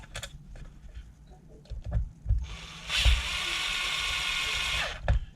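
A power driver spins out the bottom battery-tray screws on a Traxxas X-Maxx with a few short whirring bursts, then a longer steady high whine in the middle, close and fairly loud, with light tool clatter between.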